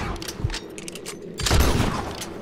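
A quieter rifle shot followed by a louder booming blast about a second later in Red Dead Redemption 2 while hunting a legendary elk, amid clicking mechanical game sounds.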